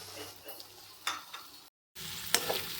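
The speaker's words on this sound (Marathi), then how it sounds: "तर आपलं मटर तळत आहे" Green peas frying in a pan with onion and ginger-garlic paste for pav bhaji: a soft, steady sizzle with a few scraping stirs, broken by a brief silent gap, then louder sizzling and a sharp clink.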